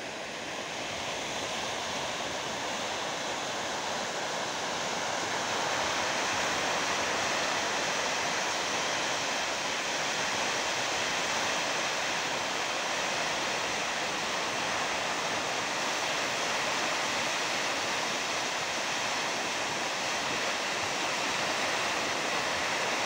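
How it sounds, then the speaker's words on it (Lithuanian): River rapids near a waterfall at Kaunas Santaka make a dense, unbroken roar of rushing water, loud and steady for the whole stretch with no voices. "dar galim pažiūrėti tą sraunumą, beveik krioklys"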